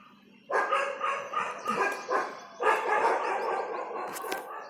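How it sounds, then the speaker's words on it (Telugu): Several dogs scuffle and bark in a rapid, overlapping burst outdoors, with yips and growly barks at moderate distance, loud and agitated, no voices over them. "ఇదిగోండి గైస్, కుక్క గొడవ పడుతుంది."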